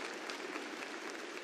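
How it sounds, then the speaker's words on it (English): Steady applause from an audience, dense clapping that holds at an even level throughout, with no voices. "Let's clap for that"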